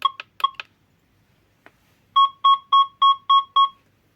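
Electronic beeping tones from an SDR metal detector's multi-tone audio response: a few short chirps, then a steady run of six evenly spaced two-tone beeps, clear and close with no voices.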